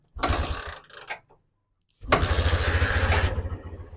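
Motorcycle engine turning over after a carbon deposit cleaner treatment: a rough cranking burst, a pause, then the engine catches and runs with a loud, close, steady idle pulse.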